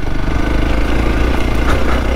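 A motorcycle engine idles steadily on a loose-sand off-road trail, a continuous close low rumble with no voices over it.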